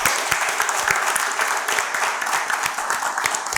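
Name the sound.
audience applause for the teachers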